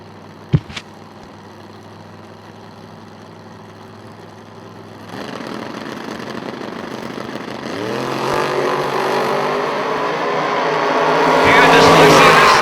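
Drag racing cars, the S10 and a 1975 Pinto, at a bracket racing event, engines idling low then building into a loud, rising roar toward the end, with a brief sharp bang near the start.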